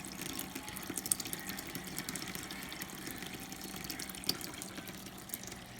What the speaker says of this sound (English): you can see I got a good flow coming out of the first sump stage